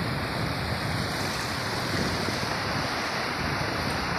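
A strong current of flood water rushes past in a steady, loud, broadband roar, mixed with gusty wind buffeting the microphone, with no voices present.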